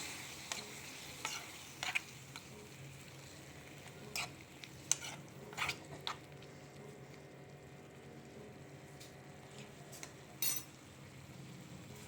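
Okra and tomato curry with tamarind water cooks in a pan with a soft, steady sizzle, punctuated by a few scattered clinks and scrapes of a stirring utensil; quiet, with no talking.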